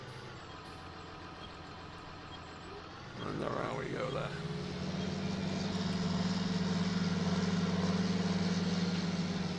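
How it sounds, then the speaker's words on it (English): A tractor engine in Farming Simulator 19 idles, then rises into a steady drone that holds to the end, with someone talking over it. "Oh, I love this tractor."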